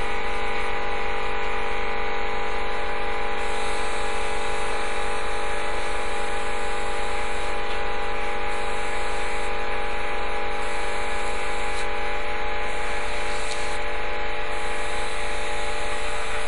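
An airbrush sprays paint onto an RC car windshield, a steady close hiss over a low hum, with brief brighter bursts as the spray starts and stops.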